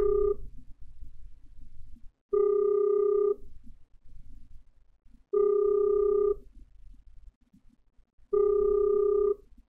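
An outgoing WhatsApp call rings over a phone speaker, four even ringback tones spaced about three seconds apart with soft background noise in the gaps.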